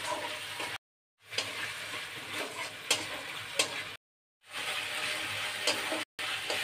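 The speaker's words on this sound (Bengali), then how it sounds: "আমি সস দিয়েও আবার একটু কষিয়ে নেব।" Spice paste cooking down with tomato sauce in a pan for a green banana kofta curry, giving a steady sizzle and scraping stir strokes in three bursts broken by short silences, with no talk.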